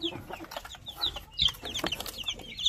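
Native chickens cluck and chirp in a yard, several birds giving short, uneven calls close by, with no voices.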